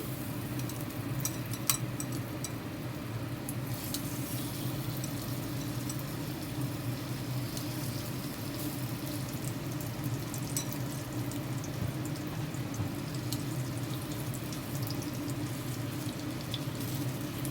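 Chicken chaap pieces sizzle in hot oil in a pan, a steady close hiss with small pops, unbroken throughout with no voices.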